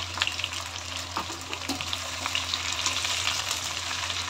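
Boiled small round potatoes sizzle steadily in hot oil in a pan with fried onions, a constant close crackle with light stirring scrapes throughout.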